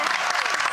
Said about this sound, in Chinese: 再次掌声谢谢君如姐。